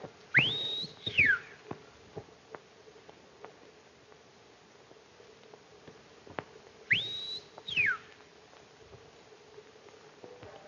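Two loud whistled signals, each a sharp rising-then-falling swoop, sound about six seconds apart in a 1932 black-and-white Western, with faint ticks and rustling in the quiet between them.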